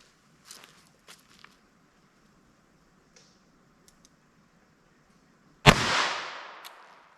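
A single sharp .22 Long Rifle gunshot from a short-barrel handgun fired into ballistic gel, a loud crack near the end with a quick decaying tail, preceded by a few faint clicks and handling sounds.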